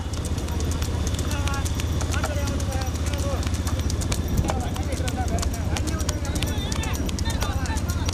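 Pairs of big bulls pull carts at speed in a Tamil Nadu bullock cart race, their hooves clattering steadily under a constant roar of crowd, vehicles and loud race commentary.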